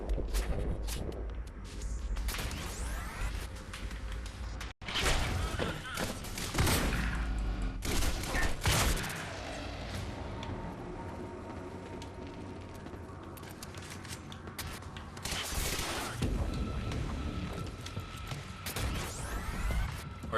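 Shotgun fire in the game Quantum Break: heavy, close blasts come in irregular clusters over twenty seconds, separated by quieter stretches of mechanical clatter, scuffing footsteps and other game noise.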